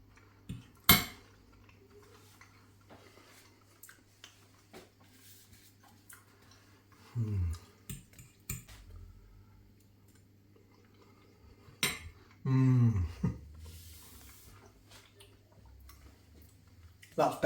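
Knife and fork scraping and clinking on a plate while cutting liver served with bacon, colcannon mash and gravy, sparse close clicks and a few louder scrapes at intervals, with a quiet steady hum underneath.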